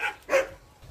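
A dog gives two short, sharp barks during a training session, the second bark louder, close by and with no talk over them.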